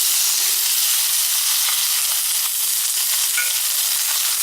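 Onions sizzling and frying steadily in a pan with urad dal for a brinjal gravy, a dense close hiss with a few faint stirring clicks, no voices.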